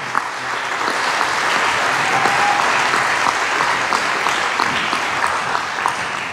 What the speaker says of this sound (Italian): Un bel applauso per questo momento.